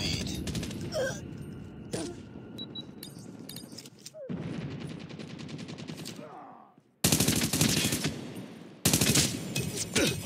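Bursts of automatic gunfire and single shots from the mobile shooter game Call of Duty: Mobile, loud and close, with dense rattling volleys that cut out briefly and then resume even harder.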